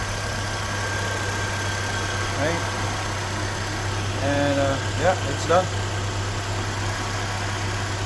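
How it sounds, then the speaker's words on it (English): Nissan Altima 4th-gen engine idling as it warms up after a radiator and coolant replacement, a steady low hum with a constant drone running evenly underneath while someone talks briefly over it. "get the engine warmed up"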